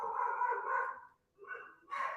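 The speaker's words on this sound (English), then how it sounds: "Apologies if you hear a dog going crazy." Dogs barking inside a house, heard as two or three loud, drawn-out bursts separated by a short silent gap, close by with no talk over them.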